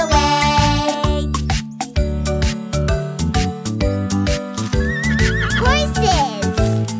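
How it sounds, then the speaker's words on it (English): Bright neighs from a horse ring out over a bouncy children's farm-animal song, with clip-clop hoofbeats and a steady musical beat throughout. "Looking all around, hear that neigh-neigh sound."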